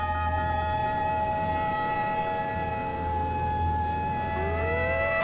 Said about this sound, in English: Tomorrow, this siren may mean the real thing.